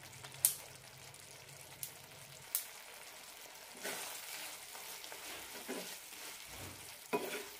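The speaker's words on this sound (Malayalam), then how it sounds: "ഒരു മിനിറ്റ് കൂടി നന്നായി തിളപ്പിക്കാം." Bitter gourd tamarind curry, spicy and sour, simmers uncovered in a pan as it thickens, giving a faint, soft bubbling with a few sharp clicks scattered through.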